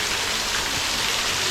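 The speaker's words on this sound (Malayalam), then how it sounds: "എന്താ വാട്ടർ ഫാൾസിൽ നിന്ന് താഴേക്ക് വരുന്ന ഒരിതാണിത്. ആ വെള്ളം വരുന്നുണ്ടോ?" Water pours down a waterfall at Braemore Estate near Trivandrum, Kerala, a steady dense hiss-like rush that fills the whole clip without pause.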